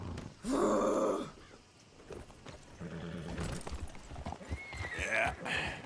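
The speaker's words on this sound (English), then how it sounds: "Damn horse acting up on me, of all the times." Video game horse clopping its hooves and whinnying while acting up, fairly close, with a groaning snort and a high neigh near the end over a busy background.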